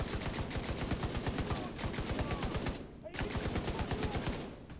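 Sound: rifle gunfire in the video game The Division 2

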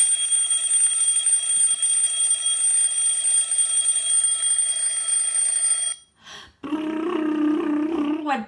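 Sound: alarm clock ringing

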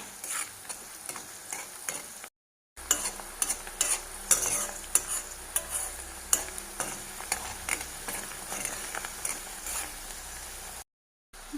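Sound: sauteing curry leaves and chilies in a pan for fish pickle

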